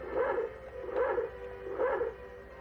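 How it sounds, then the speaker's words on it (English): Three evenly spaced barks from a dog in the Castlevania: Symphony of the Night video game, fairly quiet and repeating in a steady rhythm over a low game background. "He barks."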